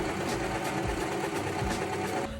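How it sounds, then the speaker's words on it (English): A serger overlocking the shoulder seams of a pajama set, running as a steady continuous mechanical whir with a fast stitching rhythm, close and alone with no talk. "I'm now going to immediately serge the shoulder seams."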